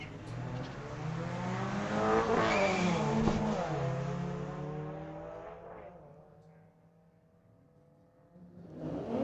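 A 2017 Subaru WRX launches in a street-legal drag race at Mission Raceway Park, its engine revving up through rising gear sweeps, then fading as it pulls away into the distance before another car's sound builds at the end.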